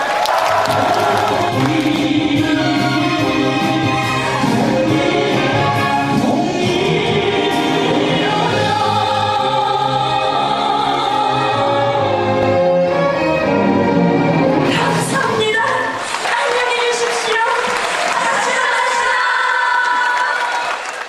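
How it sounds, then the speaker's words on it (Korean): A large concert audience at a North Korean art troupe performance applauds and cheers loudly and continuously, a dense wall of clapping and shouting voices with music-like tonal layers running through it. "평양에서도 다 들리게 큰 박수를 부탁드립니다"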